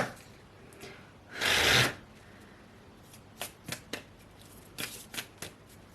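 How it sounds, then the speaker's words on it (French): Oracle cards being shuffled and drawn: one loud riffling burst about half a second long, followed by several soft, quick card slaps and flicks, close and alone. "Et donc, on va piger une carte."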